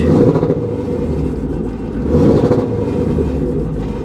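Fire-damaged Range Rover engine straining under throttle, a loud rough low rumble that swells in a revving surge midway, heard up close with no talking.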